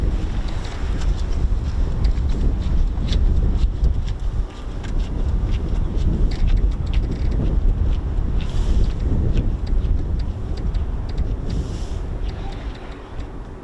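Strong wind buffets the microphone at an RAF Coningsby airfield viewing area near runway 07, a steady loud low roar lasting throughout with occasional gusts.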